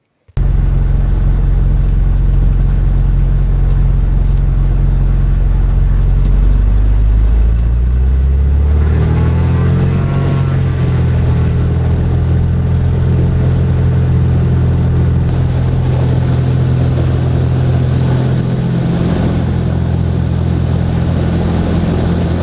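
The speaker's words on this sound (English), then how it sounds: "Today, we're flying a Mooney model M20C out of Westline Aviation in New Tempe." A Mooney M20C light aircraft engine drones steadily in flight, a loud, continuous close rumble whose pitch shifts upward partway through and then holds.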